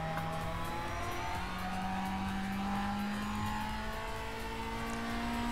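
A Lancia Delta HF Integrale Evo engine in the racing game Need for Speed Shift 2 drones steadily under load, its pitch climbing slowly as the car accelerates, moderately loud with a faint whirring whine and no talking.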